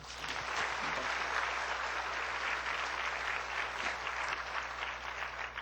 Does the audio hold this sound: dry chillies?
no